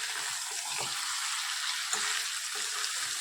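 Steady, close sizzle and crackle of meat and potatoes frying with spices in a pan, an even hiss throughout with a few soft stirring knocks.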